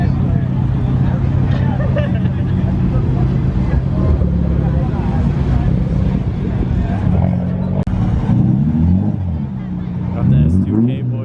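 Honda S2000 sports cars roll past at a San Diego car meet, engines rumbling and rising in pitch as they go by, under a crowd's chatter and nearby talk.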